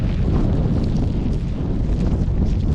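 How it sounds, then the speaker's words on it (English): Strong gusting wind at a wet wild camp near Camber Castle, a loud continuous roar buffeting the microphone with no pauses. "This wind is really picking up now."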